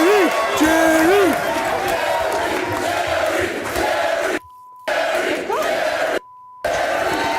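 Studio audience at a Jerry Springer taping chanting together in a loud, sustained roar, with shouting voices on top and two brief silent gaps.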